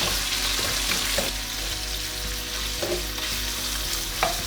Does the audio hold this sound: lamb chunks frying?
yes